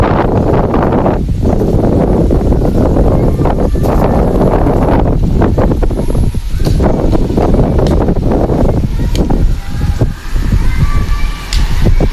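Strong wind buffets the microphone continuously, a loud roaring rumble with no voices.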